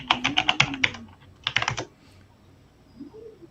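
Close, crisp typing on a computer keyboard in two quick bursts of rapid key clicks, separated by a brief pause and followed by quiet, with no talk.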